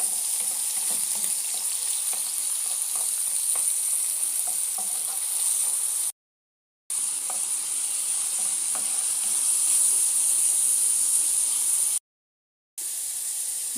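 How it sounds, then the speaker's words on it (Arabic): Chicken livers frying with wilted onion in a pan give off a loud, steady hiss and crackle, with a few faint stirring ticks and two short breaks in the sound. "بعد ما ذبلنا ذاك البصل المليح نرميو عليه كبد الدجاج اللي عندنا، نخليوه حتى يطيب مليح"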